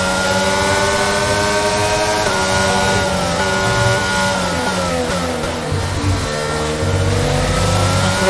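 Racing car engine from a Formula-style video game at the Imola Grand Prix, loud and continuous, with the pitch rising through the gears and dropping on a brief lift, alone with no voices.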